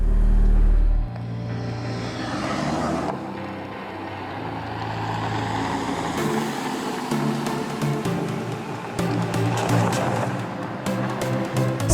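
A Marussia B2 supercar with a powerful engine accelerates, its rumble and revving engine tone rising and holding loud and close throughout, with sharp transient clicks later on.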